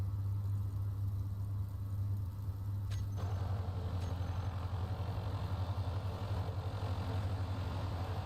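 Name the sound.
ship engine noise in the video game Space Engineers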